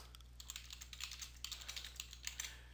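Typing on a computer keyboard: a steady, quick run of light keystrokes with small irregular pauses, quiet and close, with no talking.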